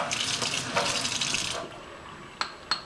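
Water runs steadily from a tap while a doll is washed, a continuous splashing hiss that stops partway through, followed by a couple of small knocks.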